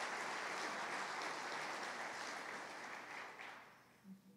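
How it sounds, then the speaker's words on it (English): A large crowd of over 220 people applauds at a city and county State of the City event, a dense, even roar of clapping that slowly thins toward the end. "Give yourselves a round of applause for caring enough about Henderson to show up."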